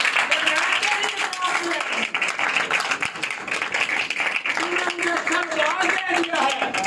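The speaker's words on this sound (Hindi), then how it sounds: "मुझे जरा तालियां यीशु के लिए" A crowd at a Christian worship gathering claps steadily and densely throughout, a continuous patter of many hands, with voices singing or speaking over it.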